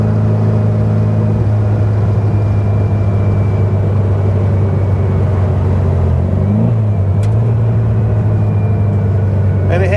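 Steady low engine drone from a 1967 Volkswagen Beetle on a test drive, droning evenly throughout with a brief pitch shift midway as it revs or changes gear, heard from inside the car.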